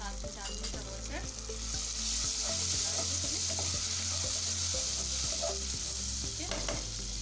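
Onion, ginger-garlic paste and tomatoes fry in a curry pan for black chickpea salan, giving a steady close sizzle with repeated scraping stirs and no talk.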